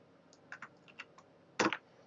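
Light, soft clicks of typing on a computer keyboard, a handful of keystrokes followed by a louder double tap near the end, close in a quiet room.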